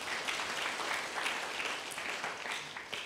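Congregation applause in a church service, steady dense clapping from many hands filling the space for a few seconds with no talk over it.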